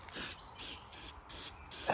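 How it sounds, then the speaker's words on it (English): Lysol disinfectant sprayed onto a ThinkPad laptop in short hissing bursts, five quick pumps in a steady rhythm, close but fairly quiet. "spray it down with Lysol"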